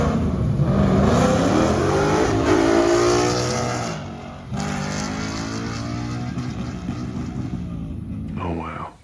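Ford Mustang drag race between a 7.3L and a 5.0L car, a loud sustained engine roar that rises steadily under acceleration, then drops and continues more steadily, with talking over it.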